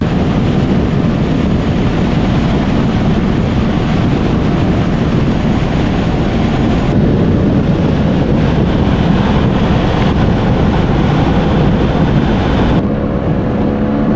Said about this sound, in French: tu longes la côte, donc le vent, il te fait pas de cadeau